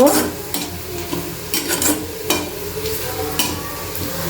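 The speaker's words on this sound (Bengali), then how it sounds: "আর এদিক দিয়ে পেঁয়াজটা প্রায় ভাজা হয়ে গেছে" Onions sizzle loudly in a little hot oil for a dried-fish dish while a spoon stirs and scrapes the pan in irregular strokes, close up.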